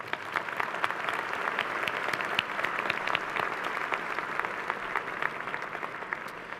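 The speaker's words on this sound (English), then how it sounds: "Please join me in giving them a round of applause." Sustained applause from a sizable crowd at a university commencement ceremony, dense clapping at steady volume throughout with no voices rising above it.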